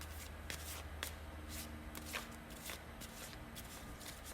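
A deck of playing cards being shuffled by hand close by, with soft, quiet riffling bursts repeating at a fairly regular rhythm.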